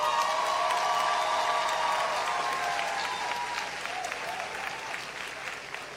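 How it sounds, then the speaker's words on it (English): Graduates at a university graduation ceremony applaud together, steady dense clapping from a large crowd that stays loud throughout and slowly tapers toward the end. "Let us give ourselves a resounding round of applause."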